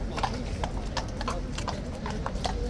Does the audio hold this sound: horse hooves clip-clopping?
yes